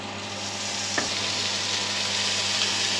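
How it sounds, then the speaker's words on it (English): Salmon fillets fry in a hot skillet, giving a steady, even sizzle with a faint clack of contact partway through, heard alone and close. "I'm going to go ahead and put our salmon on because I think that skillet's ready"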